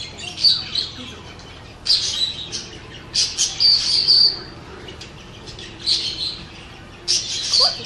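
Budgerigars chirp and squawk in short bursts, bright and fairly close, with pauses between calls and faint room noise underneath.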